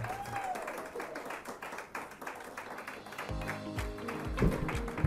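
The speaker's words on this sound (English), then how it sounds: "Another round of applause for her." Audience applause breaking out at the close of a talk on design in real estate projects, a steady patter of clapping hands throughout, with a voice and some low thuds joining partway through.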